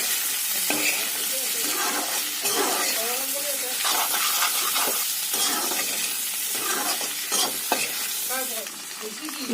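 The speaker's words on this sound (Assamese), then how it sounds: "আলুখিনি অকণমান ফ্ৰাই হ'ব লাগিব।" Potatoes and pork fry in a pan for an Assamese-style pork curry, giving a steady close sizzle with repeated stirring scrapes throughout.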